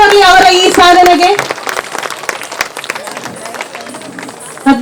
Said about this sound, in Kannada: ಒಮ್ಮೆ ಜೋರ ಚಪ್ಪಾಳೆ ಬರಲಿ ಅವರ ಈ ಸಾಧನೆಗೆ.